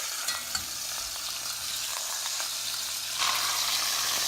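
Chicken pieces for Chicken Vesuvio browning in a hot pan with a steady close sizzle, a few light scrapes early on, and the frying growing louder and brighter near the end.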